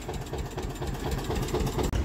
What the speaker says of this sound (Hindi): अभी आ चुका है ट्रैक्टर बाडा में